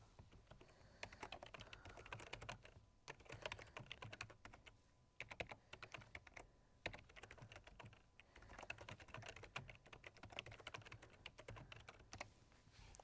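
Steady typing on a computer keyboard fills the stretch with quick, continuous key clicks at low volume, broken by a few brief pauses, while case log notes are entered.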